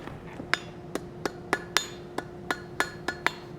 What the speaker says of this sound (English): To the anvil